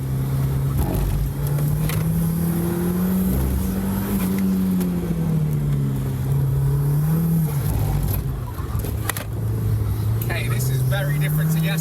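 A 20-valve Mark II car lapping a track with a bypassed brake bias valve, its engine droning steadily with rising and falling pitch as it works through corners, loud and close from inside.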